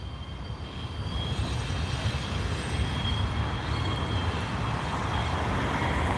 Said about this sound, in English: We got an annoying train coming by.